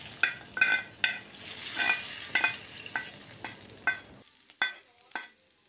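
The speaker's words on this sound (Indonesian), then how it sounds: "kita siramkan langsung ke bahan sambalnya yang sudah kita rebus tadi ya" Hot oil poured over boiled sambal terong ijo ingredients (green eggplant and chilies) sizzles loudly and steadily, punctuated by repeated utensil scrapes and taps, then cuts to quieter spoon clicks; no talking.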